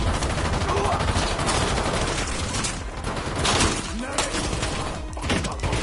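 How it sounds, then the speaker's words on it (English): Gunfire in the shooter Call of Duty Black Ops 7 is a dense, loud run of overlapping shots and impacts that continues throughout, mixed with other battle noise and a voice talking. "I just have a crappy pistol."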